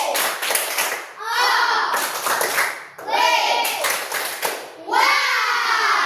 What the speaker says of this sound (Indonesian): Ya, tepuk tangan tuh semua.